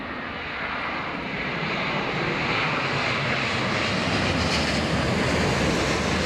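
A Cathay Pacific airliner, the wide-winged 350, landing at London Heathrow in a crosswind, a loud, steady jet roar that builds over the first seconds and holds, broadband and close, with no talk.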